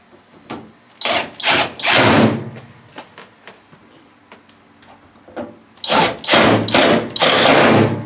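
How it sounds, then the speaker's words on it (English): Screws are driven into the front panel of an LG/Kenmore front-loading washing machine, with bursts of ratcheting, rubbing mechanical noise in two loud clusters separated by quieter clicks and taps. "we're going to put the screws that belong in here on. So we'll start working these in."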